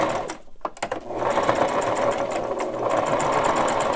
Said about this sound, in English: go to your sewing machine, just a straight stitch